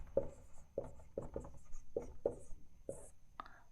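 Pen writing out a maths solution for a Navodaya entrance exam problem on member counts and expenses: repeated short scratching strokes in close succession, near and fairly quiet, with soft background hiss and no talk over them.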